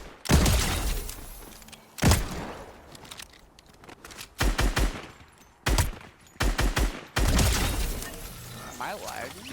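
Video game gunfire comes in loud, sharp bursts of rapid shots. Separate volleys are broken by short pauses, with cracking, shattering impacts mixed in, and voices are heard talking between the shots.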